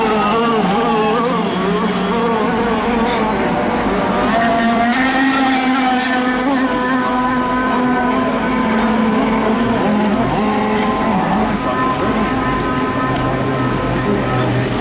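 A steady high-pitched whine of small nitro engines on RC racing boats during a 24-hour race, rising and falling in pitch as the boats pass, continuous and fairly loud.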